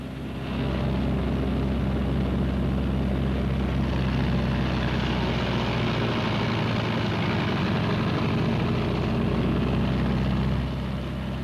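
The twin engines of a Martin B-26 bomber run up together, giving a loud, steady propeller roar that holds at a constant level throughout, with no voices.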